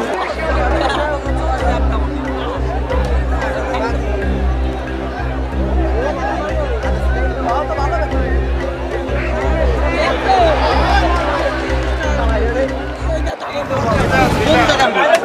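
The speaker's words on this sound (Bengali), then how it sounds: "যতই বেলা ঘোরাচ্ছে ততই উৎসুক জনতার ভিড় যেন লেগেই আছে" A large crowd of spectators at a traditional bullfight in Mollahat, Bagerhat, makes a steady, dense hubbub of many overlapping voices that continues throughout and swells briefly near the end.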